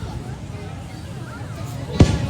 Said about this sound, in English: But check out those fireworks.